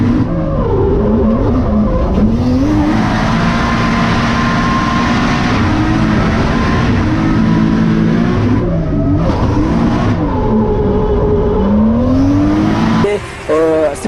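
Race cars drifting in a battle at Val-de-Vienne, one a Nissan Skyline, with loud, close engines revving hard and rising and falling through gear changes, tires squealing, and voices heard over the roar.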